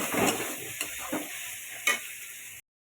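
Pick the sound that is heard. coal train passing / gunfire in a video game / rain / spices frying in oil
spices frying in oil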